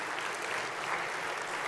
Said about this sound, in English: give yourselves a round of applause for coming this year